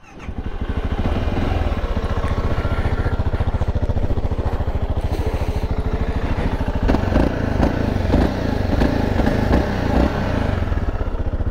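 A Voge 650 DSX adventure motorcycle engine fires up and settles into a steady, throbbing idle close by, with a few blips of throttle toward the end and no speech.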